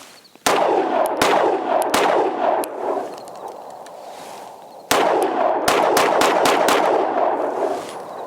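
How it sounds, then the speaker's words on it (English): A Springfield Armory Hellcat Pro pistol fires loud, sharp shots in two quick strings, each several rounds long, separated by a brief pause, with echoing tails between the bursts. "let's give it a whirl here, fire some rounds through it"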